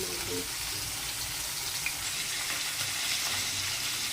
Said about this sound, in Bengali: মাছগুলো দিয়ে দিয়েছি, ভালো করে ভেজে নেব